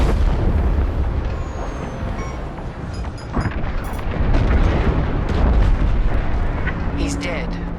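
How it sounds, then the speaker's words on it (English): Frigate exploding in Star Wars Squadrons, heavy rumbling blasts and booms rolling continuously at loud volume, with voices mixed into the din. "The frigate is about to explode!"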